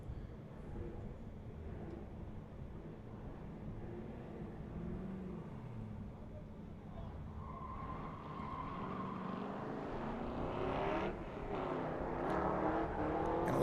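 A drift car launches off the line at the Holley LS Fest West drift qualifying, its engine rumble building steadily from a distant, muffled drone to a louder, rising roar over about fourteen seconds.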